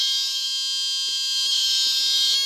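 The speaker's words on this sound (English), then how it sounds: "activate the alarm. It's very high pitched" A homemade burglar alarm circuit sounds a continuous piercing high-pitched electronic tone, loud and steady throughout, with faint clicks underneath and no speech.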